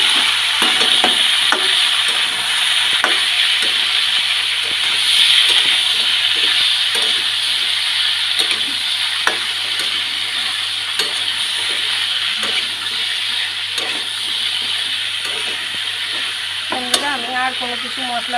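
Shrimp marinated in turmeric and salt fry in a pan with green chilies, giving a steady close sizzle with frequent stirring scrapes and light clinks throughout.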